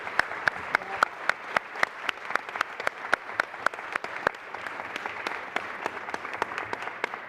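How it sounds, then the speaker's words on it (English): At a hearing on the 5 GHz spectrum band, a small audience applauds with steady, evenly spaced claps that carry crisply and continue throughout. "round of applause"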